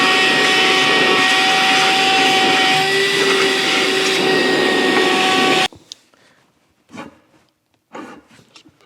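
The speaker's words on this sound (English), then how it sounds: "I'm just going to use a shop vac to get most of this out" A shop vac roars loud and steady while sucking up metal filings from a steam stoker engine, then cuts off abruptly, leaving a few faint clunks and handling noises.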